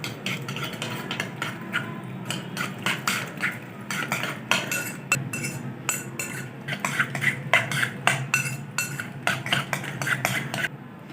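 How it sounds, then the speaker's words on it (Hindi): A spoon clinks and scrapes briskly against a bowl while beating egg, Maggi noodles, finely chopped capsicum and salt into an omelette mix, a steady run of close, rhythmic clatter with no talking. "सारी चीज़ों को अच्छे से मिक्स कर लेंगे।"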